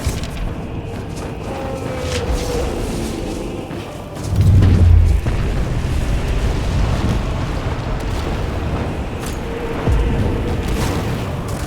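A fire attack strikes the player in Skyrim Special Edition: a steady, dense roaring rush throughout, swelling into a heavy, close boom about a third of the way in before settling back to a continuous roar.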